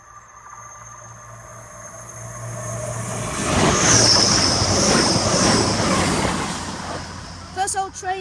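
Train passing Botany Bay level crossing in Nottinghamshire, its rumble swelling to a loud close roar with clattering wheels and high squeal, then fading as a warning-like tonal chirp sounds at the end; no talk.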